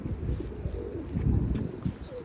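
Pigeons coo repeatedly at close range, low soft throaty calls rising and falling in overlapping bursts, with faint rustling and light chirps in the background.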